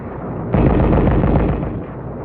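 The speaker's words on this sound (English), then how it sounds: "We called back for mortars and 155s." Mortar and 155 mm artillery fire in World War II fighting on Angaur, 1944: a heavy booming blast that swells into a rumbling roar for about a second before easing off over a low background rumble.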